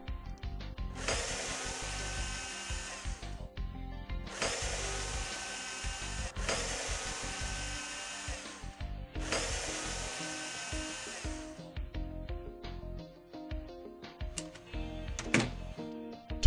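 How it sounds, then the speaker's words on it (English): Screws are driven back into a PlayStation 2 console casing with a small power screwdriver, three long whirring bursts separated by brief pauses, followed by faint clicks and handling of the plastic shell. "Replace the 4 screws, 1 in each corner."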